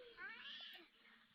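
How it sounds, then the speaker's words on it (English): A cat meows in a short, rising and falling call, fairly faint and distant against a quiet background with no talk. "Why did that sound like a cat?"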